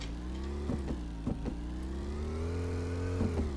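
A car engine idling in the video game Car Dealer Simulator, a low steady hum with a faint rising pitch and a few soft clicks, with no speech.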